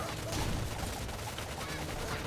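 Turrets firing in the strategy video game Tooth and Tail, a dense continuous rattle of rapid gunfire-like shots filling the moment, alone and fairly loud.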